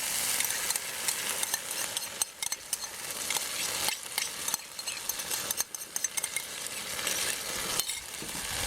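Beef frying in sauce in a pan, a steady close sizzle with scraping stirs throughout.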